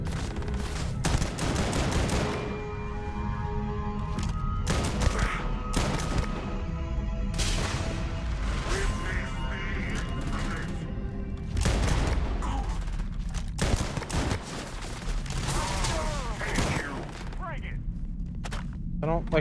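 Gunfire in Starfield, with loud, sharp shots coming in rapid bursts and volleys, broken by brief pauses across the whole stretch.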